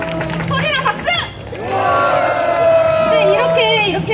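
Crowd at a Hongdae street busking show by a dance team cheers and shouts, with scattered clapping swelling in the middle, while a performer's voice and background chatter carry over the open-air noise.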